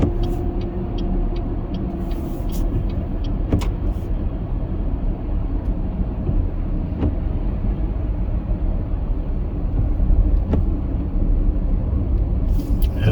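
Road traffic rumbles steadily from inside a moving car on a city street with no traffic lights, with a continuous low engine and tyre drone and a few faint brake hisses and clicks, and no one speaking.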